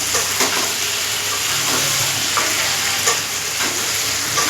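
Shrimp rubbed with salt and turmeric frying in a pan with taro stems and potato, a loud, continuous sizzle and crackle with occasional stirring scrapes and no talking.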